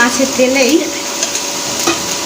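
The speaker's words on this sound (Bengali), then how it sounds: "মাছের তেলেই আমি এগুলো মেখে রেখেছি, ফুলকপি আর আলুটা ভেজে নেব ভালো করে।" Cauliflower and potatoes sizzle loudly in oil left from frying tilapia, with brisk stirring over a bright, crackling fry in a short close burst.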